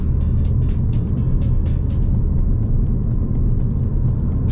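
A modified Ford Focus RS engine drones loud and steady in third gear on a wet road, a deep continuous rumble with faint ticking noises above it.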